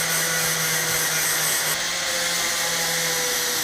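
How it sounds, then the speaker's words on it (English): Power tool grinding car bodywork in a workshop, a continuous steady whine with a constant tonal hum throughout, fairly loud and unbroken. "I don't know if you can hear me, Rob's grinding again"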